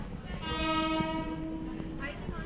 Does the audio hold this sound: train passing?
yes